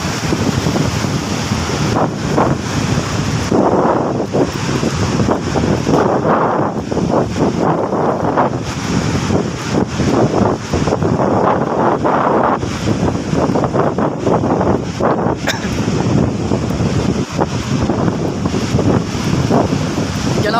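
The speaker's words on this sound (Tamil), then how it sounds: "கடல் ரொம்ப சீற்றமாக தான் இருக்குது." Rough, churning sea surf crashes continuously alongside strong wind buffeting the microphone, a loud, dense roar with repeated wave surges across the whole stretch and no voices.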